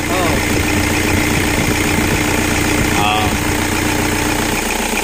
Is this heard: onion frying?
no